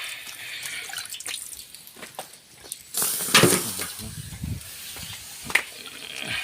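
Water poured to wet a pan while frying galunggong fish outdoors in Palawan, with splashing and dripping, a louder burst of sizzle and splatter in the middle, and scattered clinks nearby.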